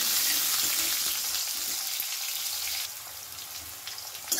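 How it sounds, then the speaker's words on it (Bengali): Diced potatoes sizzling and frying in a pan over medium flame while being stirred, a steady close hiss with small scraping clatters, no talking. "আলুটা দিয়ে একটু ভালো করে নাড়াচাড়া করে নেব"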